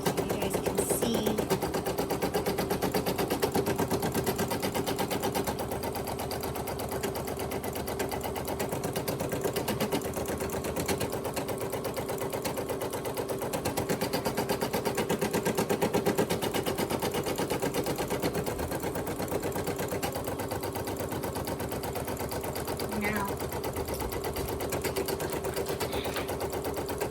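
An embroidery sewing machine stitches an appliqué design, a steady fast mechanical chatter running close and continuous for the whole stretch with no talking.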